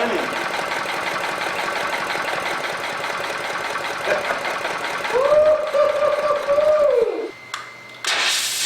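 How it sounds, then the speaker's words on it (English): A triatomic water fuel engine runs with a steady, buzzing mechanical drone that rises into a higher whine for about two seconds, then drops off near the end. It is close and continuous, with a voice speaking over it. "Triatomic water engine. My baby. It's running."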